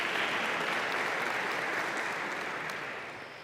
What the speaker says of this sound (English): we can applaud them again